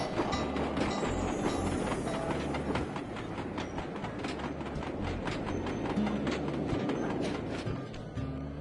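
A train rolls past in the Sly 2: Band of Thieves video game, its steady clickety-clack of wheels over rail joints carrying on continuously and fairly close throughout.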